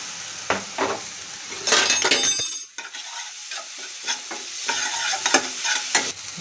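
Ginger-garlic paste hits a hot pan of vegetables for noodles with a loud burst of sizzling. Brisk spatula scraping and stirring continue close up amid steady frying crackle.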